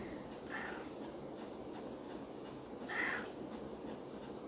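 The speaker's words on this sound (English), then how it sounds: "Sorry about my cat here." A pet cat meows twice, faintly, with a few seconds between the calls, over steady room noise during a lesson on quadratic equations and complex numbers.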